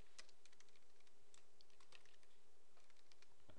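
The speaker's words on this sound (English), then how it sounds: "So much for my typing." Quick, irregular clicks of typing on a computer keyboard, soft and close, keys tapped in short bursts with brief pauses, over a faint background hum.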